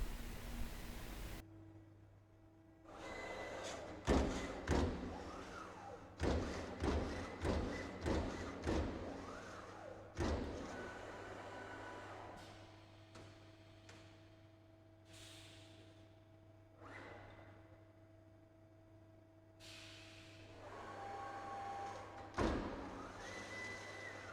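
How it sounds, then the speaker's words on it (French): Boschert Compact EVO sheet-metal punching machine, its clamps opening, shifting and re-gripping the sheet: a quiet sequence of mechanical clunks, slides and hissing bursts, with a low steady hum underneath. "Les pinces s'ouvrent et reculent de 3 mm, se déplacent, avancent à nouveau de 3 mm et serrent à nouveau la tôle."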